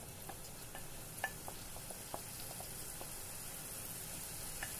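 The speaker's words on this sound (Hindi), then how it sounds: "हमने बटर डाला है, बटर के अंदर हमने अपना मसाला डाला है और अब हम इसको अच्छे से भूनेंगे इस मसाले को।" Ground masala sautéing in melted butter for butter chicken, a steady close sizzle with a few soft spoon scrapes and taps against the pan, no voices.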